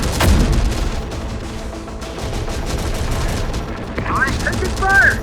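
Gunfire rattles in the Terminator: Dark Fate - Defiance video game, bursts of automatic fire and sharp shots stacking into a dense battle din, with brief electronic tones near the end.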